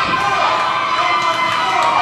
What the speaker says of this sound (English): This crowd here in the NWA Arena trying to will them on.